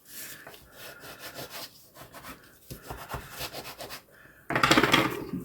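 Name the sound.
burnishing a paper fold on a card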